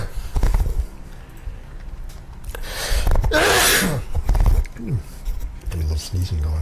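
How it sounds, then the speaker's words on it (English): A person sneezing near a live microphone during a Halloween run livestream: one sharp, loud, breathy burst in the middle, set among other mixed noise and shorter bursts. "A little sneezing going on there."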